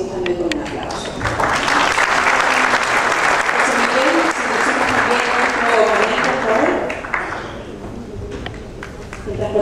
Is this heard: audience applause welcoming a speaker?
yes